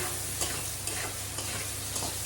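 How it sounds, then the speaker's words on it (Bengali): Potatoes fry in hot oil in a pan, giving a steady close sizzle broken by a few soft scraping stirs at regular intervals, with no talking. "তো আলুটা বেশ ভাজা ভাজা হয়ে গেছে"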